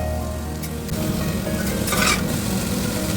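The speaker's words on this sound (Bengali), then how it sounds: "প্রথমে একটু তেল দিয়ে তার মধ্যে জিরে ফোড়ন দিয়ে নিয়েছি আর এবার পেঁয়াজ কুচনোগুলো এর মধ্যে দিয়ে দেবো" Chopped onions hiss and sizzle in hot oil with cumin seeds, a steady close frying crackle with a brief surge of spatter near the end. No one speaks.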